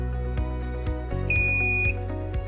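A triggered DVR alarm beeps alongside a regular thumping pulse, with a sustained high electronic tone cutting in partway through; loud and steady, no talking.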